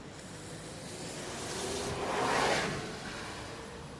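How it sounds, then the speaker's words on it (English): Vancouver city bus, the 17 Oak Street route, passing in rainy downtown traffic: a soft broadband whoosh swells to a peak and fades away over steady wet street hiss. "That's the 17 Oak Street bus."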